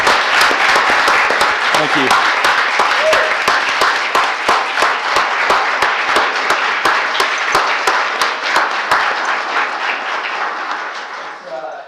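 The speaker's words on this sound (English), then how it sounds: "Can we just give this team a round of applause?" Audience at a government business session claps for the public health team, a loud, sustained round of applause with sharp individual claps and a brief spoken thank-you near the start.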